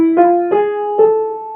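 Three successive tones outline an augmented second, moving from the sixth degree to the raised seventh degree of a harmonic minor scale, each a clear sustained pitched note played alone with distinct attacks.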